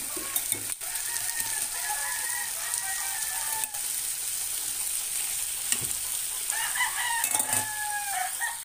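Chicken pieces frying in a pan with golden-brown garlic and onion for kare-kare, a loud steady sizzle and crackle throughout with occasional stirring scrapes and no voices.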